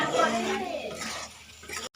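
Water hits a hot pan of potato fish curry cooking over a village wood fire in Odisha, giving a loud, dense hiss and sizzle with faint stirring clinks before it cuts off abruptly.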